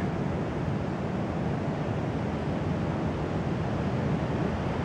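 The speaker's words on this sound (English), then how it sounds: "We're on San Gregorio Beach in LaHonda, California." Surf breaking and wind blowing on San Gregorio Beach on the California coast, a steady, loud, unbroken roar of waves and gusts buffeting the microphone with no pauses.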